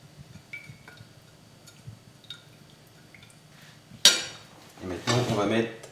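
Ingredients, including freshly grated ginger, stirred together with a utensil in a bowl while making a banh mi sandwich: quiet scraping at first, then louder clattering, mixing bursts near the end, close up and alone.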